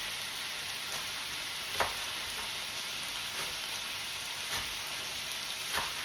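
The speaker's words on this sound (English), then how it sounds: "I just want to give that a great sear" Pot roast meat searing in a hot pan, a steady close sizzle with faint crackling pops every second or so, continuous and moderately loud with no talking.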